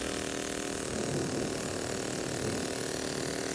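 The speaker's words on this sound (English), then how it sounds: "just a little small engine" A little model engine running on compressed air: a steady, fast mechanical hum and buzz, close and constant throughout without pauses.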